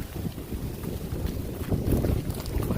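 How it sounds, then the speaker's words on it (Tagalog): Strong typhoon wind, the tail end of a storm, roars in a continuous, heavy low rumble that buffets the microphone from start to finish, with no voices. "Pakita natin yung paligid kung gaano kalakas yung hangin."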